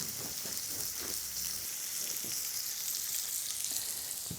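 Homemade burger patty frying in a pan gives a dense, continuous crackling sizzle, close and even throughout, with a few faint scrapes or taps early on.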